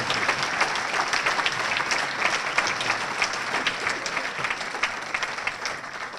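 Sustained applause from the audience at a Chamber of Commerce awards dinner in Somerville, Massachusetts, steady and full-room for the honored businesses, with no speech over it.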